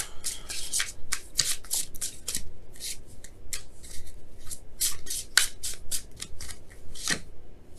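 Tarot cards are shuffled by hand close up, a steady series of crisp riffling and flicking bursts with no talk.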